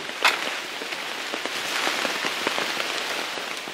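Rain falls on a farm in summer, a dense, steady patter of drops with scattered sharper splashes, close and continuous throughout with no voices.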